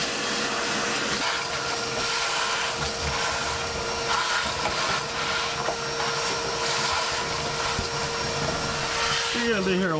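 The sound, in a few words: vacuum cleaner sucking up debris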